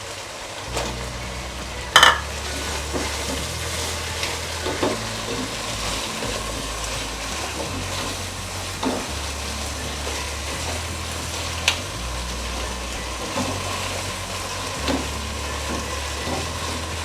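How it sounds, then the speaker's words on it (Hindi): Potatoes and carrots fry in a pan with a steady, close sizzle, broken by occasional light utensil clicks and one sharp clatter early on. No voices. "आलू को भी 3-4 मिनट फ्राई करेंगे।"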